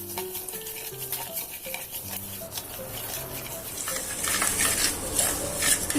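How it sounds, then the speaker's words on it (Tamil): Rice dry roasting in a pan over a high flame while being stirred gives a continuous gritty scraping and rustling, with soft sizzle-like crackle building slightly toward the end. "இதை முதல்ல ஹை ஃப்ளேமில் ட்ரை ரோஸ்ட் பண்ணுங்கள்."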